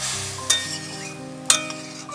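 Boiled raw mango is stirred into hot spiced oil in a pan, giving a soft sizzle with two sharp clinks of the spoon against the metal.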